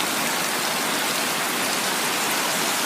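Pouring rain roars in a steady, dense hiss with no breaks, close and constant across the short stretch, with no voices.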